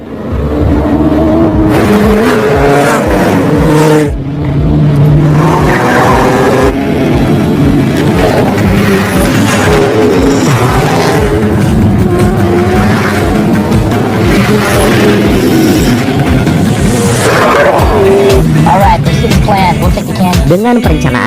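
An antique car, worth hundreds of millions of dollars, is in a chase: engines roar and rev loudly throughout, with tire squeals and skids mixed into a dense, continuous action soundtrack.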